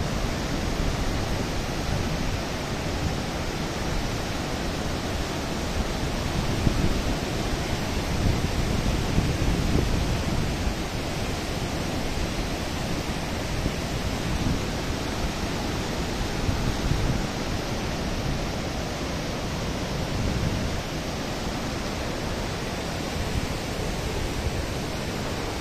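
Water roaring over the Mudgal Bandhara dam in Parbhani, a loud, dense, unbroken rush like a waterfall that holds steady throughout with no voices.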